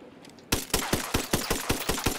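Unsuppressed pistol fire in Ghost Recon: after a half-second pause, about nine loud, sharp shots crack out in quick succession at a rapid, slightly uneven pace.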